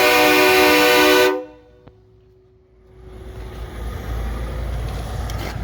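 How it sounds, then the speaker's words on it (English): A truck air horn on a custom stand-up sleeper rig blasts loud and steady for about a second, then cuts off, leaving a hiss and engine rumble. "blow the horn, blow the horn"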